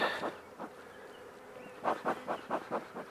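Nurse bees buzzing in a starter hive beside a queen excluder, a soft hum with a cluster of short pulsing buzz bursts near the end, close but quiet.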